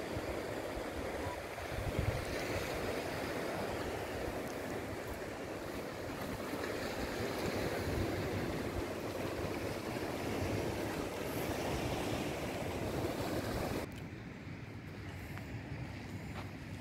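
Gentle small sea waves wash steadily against a Sardinian shore in a continuous soft roar, with a hint of wind; the sound shifts abruptly near the end.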